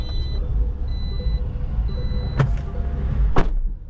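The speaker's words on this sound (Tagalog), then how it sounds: "Kapag pala hindi saradong mabuti, tutunog, Sir Mike." A thin, steady electronic door-ajar warning beep from an electric cargo truck sounds in short intermittent tones over a low idling rumble, with a couple of sharp clicks.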